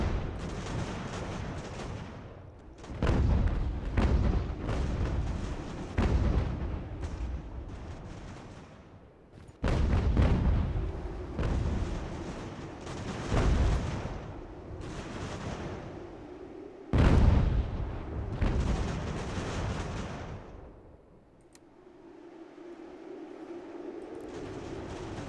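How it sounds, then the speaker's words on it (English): Cannon fire rumbles through a battle in Ultimate General: American Revolution at Salem, several heavy booming volleys in irregular bursts with rolling echoes between them, loud at first and fading toward the end, no talking. "And on top of it, we got the gun shooting at him now."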